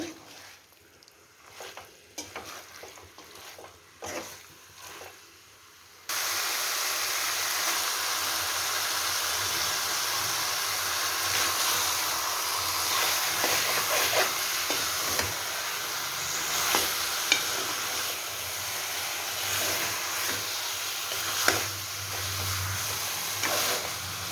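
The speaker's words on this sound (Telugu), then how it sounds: "ఒక 2 మినిట్స్ ఇట్లా బాగా హైలో పెట్టి మంచిగా వేపాలి." Ginger chicken curry frying hard on high heat in a pan: after a few quiet seconds of faint knocks, a loud, steady broadband sizzle starts and holds to the end, with occasional clatter and a low rumble near the close.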